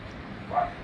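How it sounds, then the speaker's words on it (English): A single short dog bark, muffled and slightly distant as if from another room, over a low steady background hum. "so of course she's barking."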